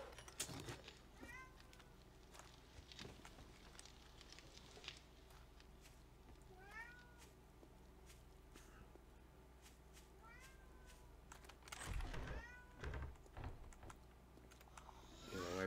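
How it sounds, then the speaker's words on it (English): A pet cat meows several times, short rising cries spread through the stretch, over near-constant computer keyboard typing and a few louder thumps toward the end. "cat likes to uh, hear herself talk."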